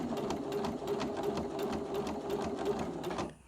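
Sewing machine stitching steadily along a marked pencil line, an even rapid needle chatter with a motor hum held close and clear for several seconds before it winds down and stops.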